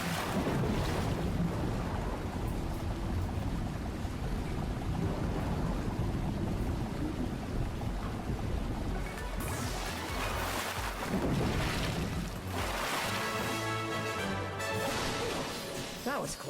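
Rushing, rising water surges in a Ratchet and Clank video game, a continuous loud wash of churning water with swells and splashes building through the middle, accompanied by game music.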